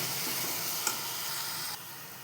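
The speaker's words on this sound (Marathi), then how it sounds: "आता मिश्रण व्यवस्थित एकजीव करून घेते" Thick carrot halwa cooked down in milk with cardamom powder sizzles steadily in a pan as it is stirred, a continuous close frying hiss with a small clink partway through and no talking.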